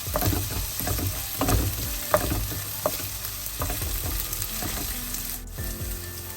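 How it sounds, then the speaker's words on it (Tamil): Green chilies sauté in hot oil in a pan with a continuous crackling sizzle and repeated scraping stirs of a spoon, close and fairly loud throughout. "நல்லா வதங்கட்டும் இந்த பச்சை மிளகாய்"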